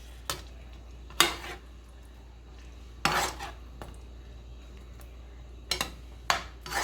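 Pork meatballs stirred in sauce in a pan: a few sharp, separate clinks and scrapes of a utensil against the pan over a faint low hum, spaced irregularly and close by.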